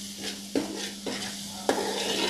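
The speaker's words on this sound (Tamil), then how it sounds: "அதையும் ஊற்றி அந்த வெங்காயத்தோடவே நல்லா பரட்டணுங்க" Onion masala for a fish curry broth sizzles in oil in a pan while a spoon stirs it, with a few distinct scraping strokes over a steady close frying hiss.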